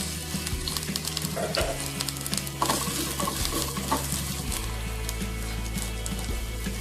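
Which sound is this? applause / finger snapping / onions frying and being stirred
onions frying and being stirred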